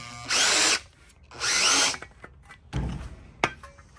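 A beading machine fitted with wheels rolls 0.8 mm sheet metal, giving two loud, close bursts of motor whir about a second each, followed by quieter clunks and a sharp knock.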